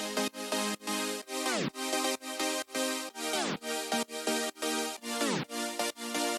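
An FL Studio synth chord layer chops out a fast, syncopated rhythm that follows a lead pattern, bright and loud, with recurring downward pitch dives at phrase ends and no voices over it.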